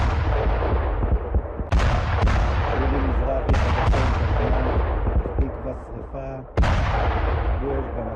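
A Hezbollah rocket attack on an Israeli military training centre in the Golan Heights, with loud, booming blasts and sharp cracks repeating over a continuous rumbling roar.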